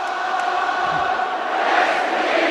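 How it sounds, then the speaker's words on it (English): Stadium crowd at the Gabba in Brisbane singing a cappella during an AFL match between Brisbane Lions and Collingwood, a steady sustained roar of massed voices from afar with no music. "So the music's gone, but the crowd now a cappella across the Gabba"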